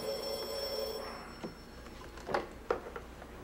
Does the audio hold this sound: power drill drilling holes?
no